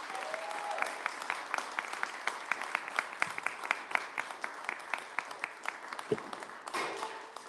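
A crowd applauds in a festival tent at PorcFest's MoneroTopia stage, with steady, dense clapping of many hands carrying on for several seconds and a few sharper claps standing out, then dying away near the end.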